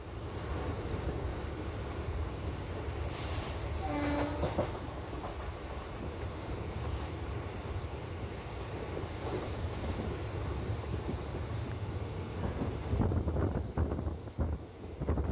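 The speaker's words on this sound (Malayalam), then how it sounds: "ട്രെയിൻ ഇപ്പോൾ സ്പീഡിൽ വന്ന് സ്റ്റേഷനിലോട്ട് കയറിക്കൊണ്ടിരിക്കുകയാണ്" A Kollam–Alappuzha passenger train pulls into Munroe Island station at speed, with a steady low rumble of wheels on rail, a brief squeal of wheels and a rising roar near the end, with wind buffeting the microphone throughout.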